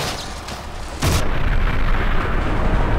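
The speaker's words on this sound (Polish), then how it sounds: "Niezły wybuch." A loud explosion erupts in the video game Quantum of Solace, a sudden booming blast followed by a sustained, dense rumble that holds at high level to the end.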